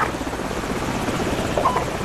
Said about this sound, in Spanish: helicópteros enemigos.